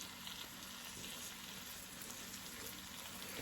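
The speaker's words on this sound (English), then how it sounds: "Put that in there on the butter and let it go ahead on and cook." Round steak fries in butter on a stovetop, giving a soft, steady, low-level sizzle that continues evenly throughout with no talking.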